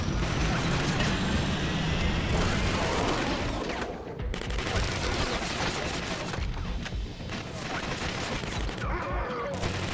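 Gunfire from the Killzone: Mercenary video game while shooting enemies from cover: dense, continuous rattling bursts of shots with crashes, loud and close throughout, no talking.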